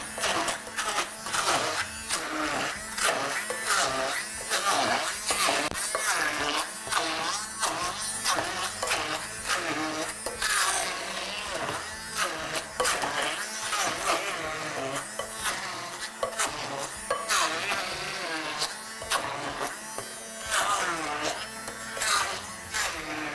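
Small kitchen machine pureeing cooked cassava, a loud rapid buzzing whir with repeated pulsing bursts running throughout, under occasional talk.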